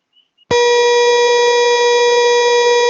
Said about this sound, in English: still buzzer will ring,